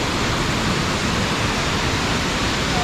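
Mantayupan Falls in southern Cebu roars in a dense, unbroken wash of falling water, loud and close with no pauses.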